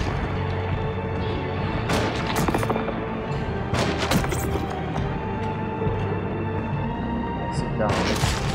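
Gunfire from the Alone in the Dark video game: several sharp shot bursts around two, four and eight seconds, heard over a dense, steady bed of game music and ambience, with talking mixed in.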